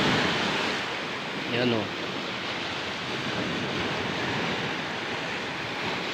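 Sea waves during Typhoon Kristine roar as a broad, constant wash of surf and wind noise, with a brief spoken word near the start.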